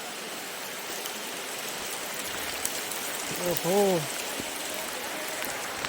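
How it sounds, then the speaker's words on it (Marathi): Rain falling in a freshwater mangrove forest near Vengurla, Sawantvadi, a steady hiss of drops throughout, with a brief exclamation from a voice over it. "पाऊस आला रे"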